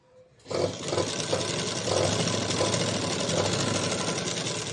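A sewing machine runs steadily, stitching the lining of an aari-work blouse. It starts after a short quiet moment and then holds a continuous, close, whirring rattle with no talk.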